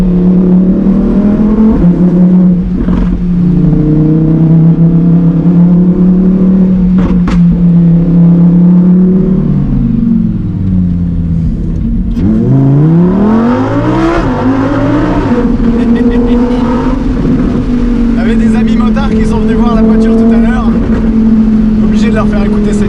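Lamborghini Huracan Performante S engine held around 4000 rpm in sport mode, a loud steady drone that dips, swoops back up and settles again, with voices talking over it.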